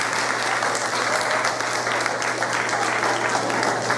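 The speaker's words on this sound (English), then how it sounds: "So I want you guys to give a round of applause to my daughter Tiara." An audience at a school certificate ceremony in Detroit breaks into loud, continuous applause, a thick even wash of clapping close by with a low steady hum beneath it and no voices on top.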